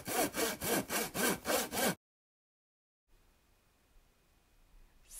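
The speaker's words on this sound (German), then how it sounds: "S wie Säge." A hand saw cutting through wood, six loud rhythmic back-and-forth strokes in quick succession, followed by silence and faint room noise.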